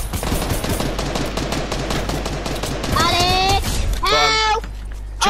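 Burst assault rifle fire crackles in Fortnite as rapid, evenly spaced shots continue throughout, with short excited voices breaking in over the gunfire near the end.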